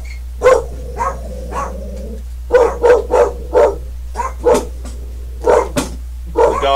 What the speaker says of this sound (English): The dogs are mad because somebody walked past the house.